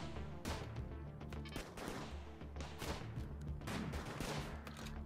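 Rapid bursts of turret gunfire in a RimWorld firefight with a modded colony's defenses, dense overlapping volleys rattling continuously at moderate loudness with no talk over them.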